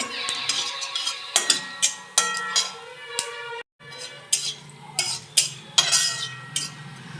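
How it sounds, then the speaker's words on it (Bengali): Mashed ajwain seeds sizzle in hot oil, broken by repeated close metallic scrapes and clinks of a spoon stirring in the pan, with a brief pause partway through. "জোয়ানটাকে দিয়ে ফোড়ন করব।"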